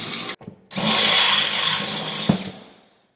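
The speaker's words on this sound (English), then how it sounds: "So we'll just drill out the heads of these rivets." A power drill bores out the heads of rivets during repair work on a Polaris 550 snowmobile, a brief whir followed by a sustained loud grinding buzz that cuts off abruptly, with a small knock near the end.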